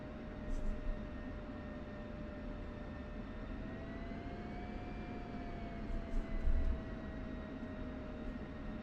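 An F-16C Viper jet in DCS World taxis slowly toward the runway, its engine giving off a steady, smooth whine and hum that shifts only slightly in pitch throughout.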